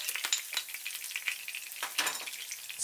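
Chopped garlic frying in oil in a pan for Cambodian stir-fried short noodles, a close, bright crackling sizzle with small irregular pops and spatters.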